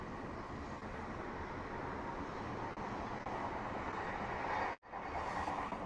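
Steady, loud rumbling roar of a train passing a crossing in Zama, Japan, broadband and continuous for several seconds, ending with a brief sudden drop before resuming.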